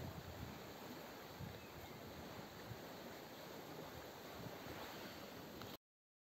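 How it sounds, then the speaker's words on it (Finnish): Steady wind roars against the microphone over a rushing wash of surf on a beach in Denmark, a constant blustery hiss that cuts off abruptly. "Tässä on niin tuuli tässä rannassa, että ei jäädä tähän tekemään."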